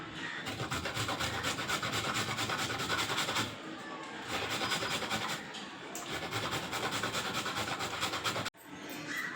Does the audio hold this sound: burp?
no